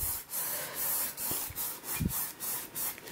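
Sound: scraping acrylic paint onto canvas

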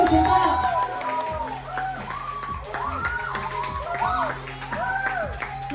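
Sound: audience applause and cheering at a film press conference

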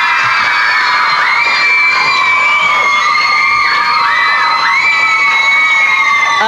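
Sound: studio audience cheering and children shouting

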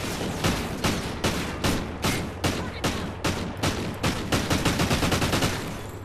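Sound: gunfire in a video game

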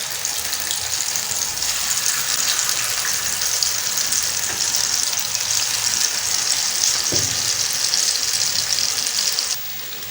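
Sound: chicken 65 pieces deep-frying in hot oil

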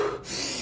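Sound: deep breath in through nose, out through mouth

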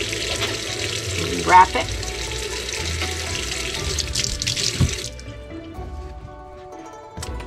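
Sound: tap water running to wet end of sushi roll

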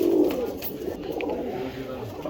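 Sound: pigeons cooing

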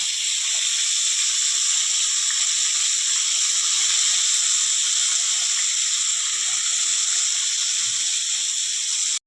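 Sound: whole lote (Bombay duck) fish frying with onion and garlic

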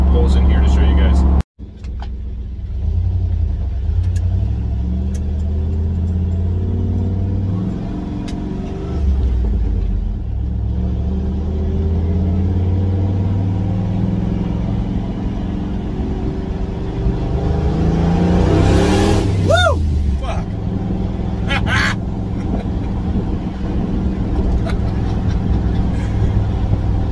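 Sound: turbocharged EFI 460 V8 accelerating hard on E85

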